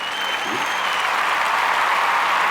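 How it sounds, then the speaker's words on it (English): Loud, steady applause from a crowd, continuous clapping that holds its intensity throughout. "a round of applause, which we'll see if I can get some sound effects in there"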